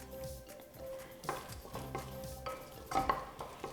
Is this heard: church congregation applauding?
no